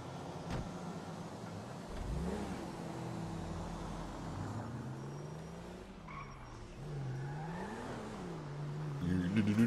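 A car engine in Grand Theft Auto 5 revs and rises and falls in pitch, with a tire-squeal-like sweep and a brief sharp knock early; steady moderate level, the engine growling alone without talk.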